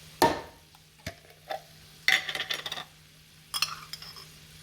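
Shrivelled vegetables tipped into a pan of cooking onions, heard as a few distinct clinks and rattles of utensils and pan, with brief scraping bursts between quiet pauses.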